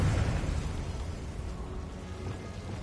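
A Confringo spell explosion in the video game Hogwarts Legacy, one broad rushing blast that starts loud and fades over a few seconds into a dull rumble.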